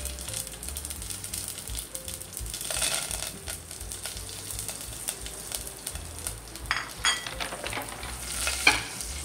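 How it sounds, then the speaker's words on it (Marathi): Mustard seeds, cumin, garlic and curry leaves crackling in hot oil for a tempering, a soft sizzle punctuated by sharp pops and spatters that grow busier and louder toward the end, close up with no voices. "तेल चांगलं तापलं की राई टाकायची, जिरं टाकायचं आहे, लसूण आणि कढीपत्ता टाकून घ्यायचा आहे"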